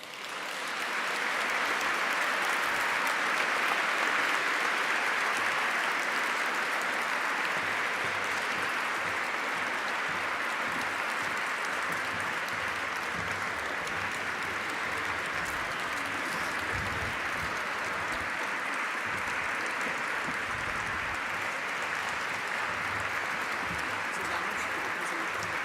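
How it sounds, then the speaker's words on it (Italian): Sustained audience applause at an evening concert of an orchestra from the Veneto before a Vivaldi concerto for four violins, a dense, even clapping that fills the whole stretch, steady and moderately distant, with no voices over it. "vi invito ad accogliere con un caloroso applauso"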